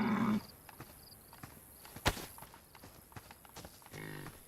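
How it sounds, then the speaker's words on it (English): Low cow-like animal calls in the survival video game DayZ, faint and intermittent, with a sharp sudden bang partway through and a louder burst of sound near the start and end. "I'm pretty sure they're making cow sounds as well."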